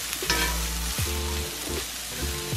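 Rice stirred in a frying pan with salt and curry powder, sizzling steadily while a spatula scrapes and clinks in a few quick strokes.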